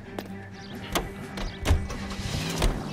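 A car driven in the crime game L.A. Noire, a steady low engine rumble with faint mechanical whirring and a few soft thumps, moderately loud and without talk.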